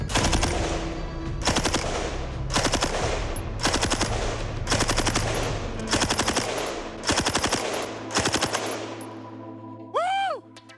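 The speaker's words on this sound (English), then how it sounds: "I just fired 45 rounds from the M60." An M60 machine gun fires 45 rounds outdoors in short, loud bursts of rapid shots separated by brief pauses, about eight bursts in all, followed by a brief whistle-like tone near the end.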